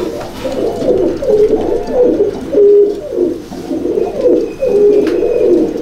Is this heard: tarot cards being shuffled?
no